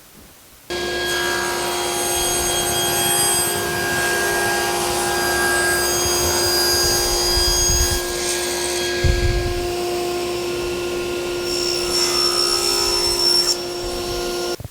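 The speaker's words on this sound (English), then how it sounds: "head over to the table saw and cut one piece 2 9/16 of an inch wide and 12 inches long" A table saw cuts a board to width and length for the base of a miter box, its motor whining steadily and loudly for nearly the whole stretch with a strong tonal hum and brief bursts of added roughness as the blade bites.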